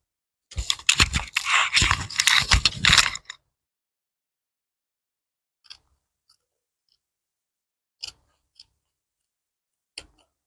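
Scissors cut through folded canvas to shape flower petals in a quick, close burst of snipping, then a few isolated sharp clicks follow in near silence.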